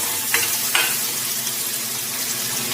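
Onions and spices frying in ghee for dal tadka give a steady close sizzle, with two brief stirring scrapes early on and no voices.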